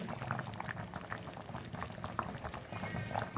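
Amti curry with tomato, kokum and a little tamarind bubbles in a pot, a steady soft burble with small popping bubbles, fairly quiet and close.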